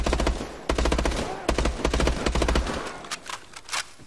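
Rapid automatic gunfire in the futuristic shooter Call of Duty Advanced Warfare: dense bursts of sharp, loud shots, with a short pause before the firing resumes and then thins out.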